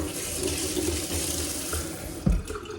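Water runs steadily from a tap, filling a container for a large syringe, with a continuous loud rushing splash and a brief knock near the end.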